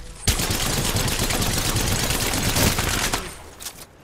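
Rapid gunfire from the video game Apex Legends, a dense sustained burst of automatic shots that runs loud for about three seconds before tapering off into a few scattered final bangs.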